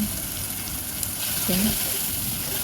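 Beef liver sautéed with tomato, salt, turmeric and chili powder sizzles in a pan, a steady close frying hiss running the whole time with a brief soft stir near the middle.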